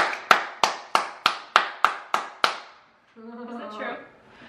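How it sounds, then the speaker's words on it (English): Eight sharp, loud hand claps in an even, quick rhythm, followed by a person talking. "I can clap really loud."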